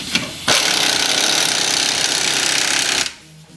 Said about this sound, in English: Take your 18mm socket again, 3/8 impact gun. Tighten that up, tighten the bottom.